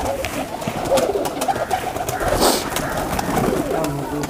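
Pigeons, including a male Sialkoti high flyer, cooing and calling close by in a loft, soft repeated coos over a steady background murmur with a brief brighter burst midway.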